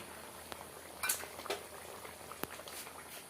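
A thin fish curry broth made with a 1.5 kg ganga fish and drumsticks simmers quietly in a pot, with soft bubbling beneath a few sharp utensil clinks and taps.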